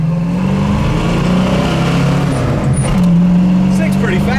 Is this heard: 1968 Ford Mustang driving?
yes